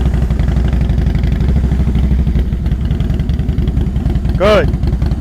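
Motorcycle engine at low revs during slow-speed riding drills, a steady close throb with clattering pulses running throughout, ending in a brief rising whistle-like tone, with people talking over it.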